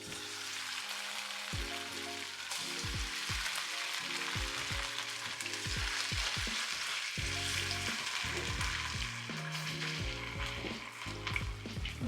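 Orange chicken pieces sizzle and fry in hot vegetable oil in a wok while being stirred, a steady loud crackle with scraping and clattering stir strokes throughout, no talking.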